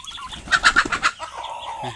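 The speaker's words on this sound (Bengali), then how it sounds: "এইটা হচ্ছে মোরগ" A rooster on a small farm kept with turkeys and ducks gives a short run of five or six quick, loud clucks up close, then trails off into softer low calls.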